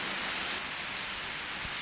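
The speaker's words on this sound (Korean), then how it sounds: "커튼을 열자 비가 내리고 있다" Heavy rain falls steadily outside a hotel at Koh Ma in Thailand, a dense, loud, unbroken hiss of drops on surfaces with no voices.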